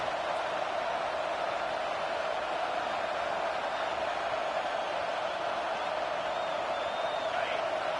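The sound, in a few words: football stadium crowd noise against the offense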